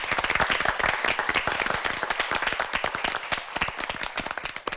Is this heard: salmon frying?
no